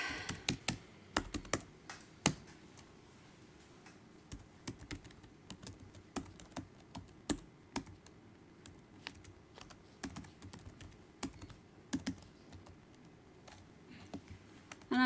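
Fast, uneven typing on a computer keyboard, with a close run of crisp key clicks and occasional louder taps, and no talking.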